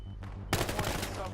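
Sniper fire in the video game Battlefield Hardline: one loud, abrupt shot breaks into a quiet background and rings out into a rumbling tail.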